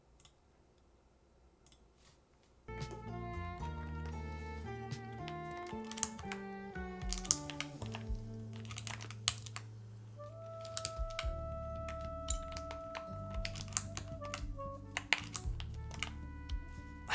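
A newly built mechanical keyboard with Key Geek switches clacks under fast, continuous typing, loud and close, with sharp individual key hits over a busy background of music.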